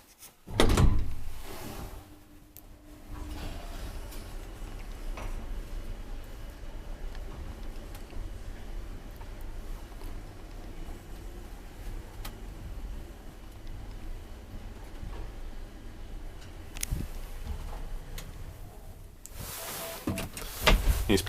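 An old Valmet Otis traction elevator in a Myyrmäki, Vantaa building runs with a door thud at the start, a long steady low hum and rumble as the car travels, then more door sounds at the end. No one speaks.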